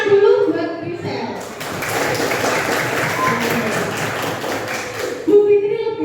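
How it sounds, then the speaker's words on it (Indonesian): A classroom applauds a student named Grisel, a few seconds of steady group clapping that rises abruptly, holds evenly, then stops, with a teacher talking before and after. "Ya, tepuk tangan dulu buat Grisel."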